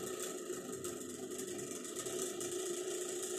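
A laboratory tissue homogeniser motor runs steadily after being switched on, a constant close mechanical whir with a strong hum and light ticking texture, holding an even level throughout with no talk.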